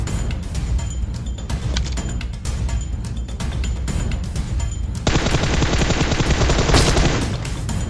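Sustained automatic gunfire exchange in the mobile battle royale game PUBG Mobile, dense rapid bursts throughout that grow heavier and louder over the last few seconds, with no talk.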